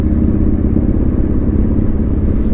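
A Yamaha Bolt motorcycle being ridden, its engine giving a steady, dense low rumble with a clattery texture that holds at an even, loud level throughout with no voices.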